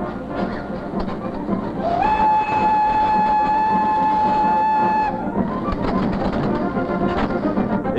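An 1829 Lafayette, the first American long-boilered steam locomotive, rumbles along the tracks with a loud, sustained whistle blast of about three seconds over steady clattering running noise.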